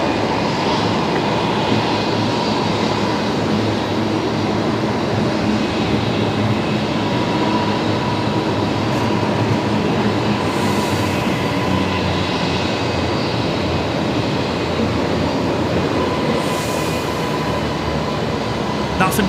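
Airliner jet engines roaring in reverse thrust on landing at Brisbane Airport, a loud, steady broadband rumble that holds for the whole stretch with faint voices underneath.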